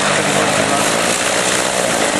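A 1939 vintage red Moth Minor light aeroplane flies circuits at an airfield during the Shobdon Food and Flying Festival, its propeller engine giving a loud, steady, unbroken roar that fills the whole clip.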